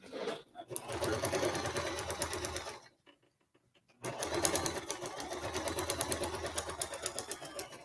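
A sewing machine runs in two rapid stitching bursts with a brief pause between, sewing with all-purpose Gutermann thread and a size 80 universal needle; the whirring stitches sound close and loud.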